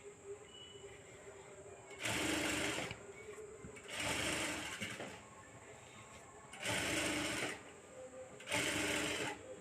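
A sewing machine stitches blouse sleeves together in four distinct bursts of rapid whirring, each lasting about a second, separated by quieter pauses with soft handling noises.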